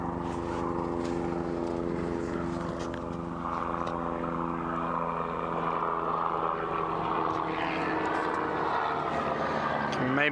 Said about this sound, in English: Maybe just hear a helicopter flying over us,